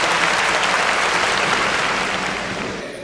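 Audience applause greets a speaker taking the stage at a Tamil debate forum held for Kamarajar's birth anniversary, Education Development Day. It rises as one dense, steady wash of clapping that thins slightly toward the end.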